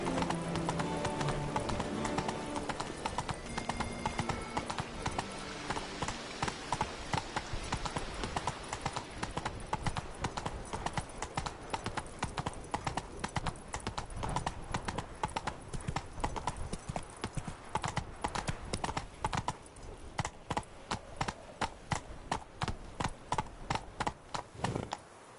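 The horse Roach gallops in a video game, a loud, rapid, steady clip-clop of hooves running continuously close by, with occasional faint voice sounds underneath.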